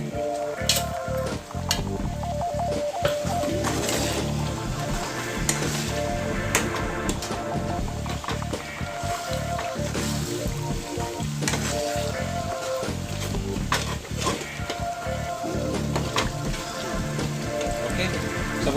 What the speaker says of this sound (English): fry this for some time, and my chili garlic sauce will be ready.